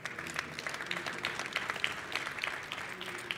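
A conference audience at a 5G cities panel applauds a speaker, with sparse, fairly quiet clapping that flutters unevenly for a few seconds and has a faint murmur of voices underneath.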